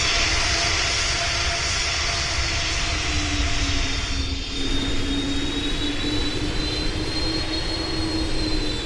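An Airbus A220 jet in a Roblox flight game passes at an airshow with a loud, continuous engine roar and a high whine that slowly rises and falls in pitch, with no talking.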